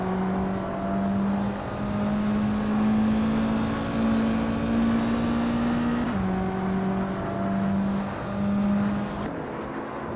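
Racing car engines, among them a 2003 Peugeot 206 RC, drone steadily at Ron-les-Essarts, holding one sustained pitch that climbs through the gears, drops with a shift and rises again, loud and continuous with no voices.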